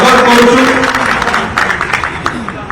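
An audience begins clapping to welcome former minister Surendra Singh Bhoi at a political merger festival. Scattered claps build under a man's announcement over a loudspeaker.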